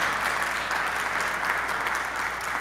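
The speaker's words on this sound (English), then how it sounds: "Can we thank them with a round of applause?" A church congregation at a Sunday service gives armed forces veterans a round of applause, a dense, even wash of clapping from many hands held at a steady level throughout.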